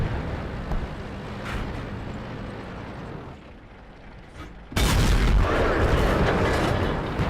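An M103 heavy tank in World of Tanks fires its cannon: a sudden loud boom partway through, breaking a low engine rumble and lingering as a broad roar; someone talks over the game sound beforehand.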